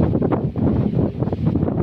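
Strong wind gusting and buffeting against the microphone in a garden, a continuous low roar with no voices.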